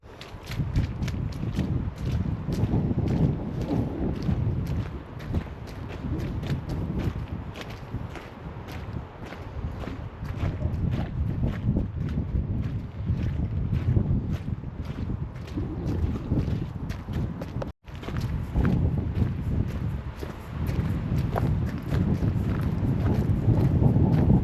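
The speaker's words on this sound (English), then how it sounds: "Wind has definitely picked up now." Wind gusts across open heathland at Canford Heath in Poole, Dorset, buffeting the microphone in a constant rough roar, with faint footsteps scuffing along underneath.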